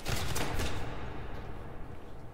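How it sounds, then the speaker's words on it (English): Rapid gunfire in the Roblox game Vampire Hunters 3, a dense burst of repeated shots loud at first, then thinning into scattered, fainter pops. "The hunter literally just shot me over and over again"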